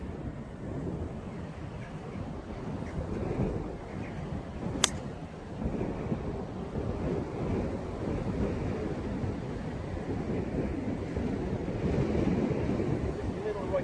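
Wind blowing across a coastal golf course in South Pembrokeshire, a constant rumbling buffet on the microphone with gusty surges and one brief sharp knock midway, loud and steady throughout.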